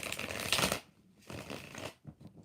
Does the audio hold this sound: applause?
no